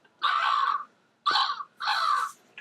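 Three loud, harsh crow caws from a Disney read-along cassette's page-turn signal ring out in close succession over silence, the last cut off at the end.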